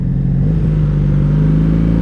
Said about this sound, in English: It seems to be idling too high for me.